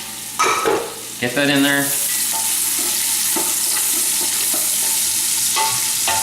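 Sliced onion drops into a pan of diced bacon browned in olive oil. A loud, bright sizzle surges up and holds steady, with a brief voice and some clinks at the start.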